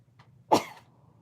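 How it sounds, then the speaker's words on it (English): One sharp, explosive sneeze bursts out close by, preceded by a faint intake of breath, then quiet. "I need to sneeze."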